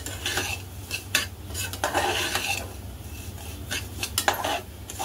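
A spoon scrapes and clatters steadily against a pan as wheat porridge (lapshi) roasts, with a light sizzle beneath the close, busy stirring strokes and no voices.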